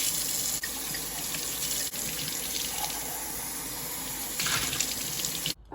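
Water from a kitchen tap runs in a steady, full stream into a sink while an item from a coffee station is washed, with a brief splashy change near the end before it cuts off.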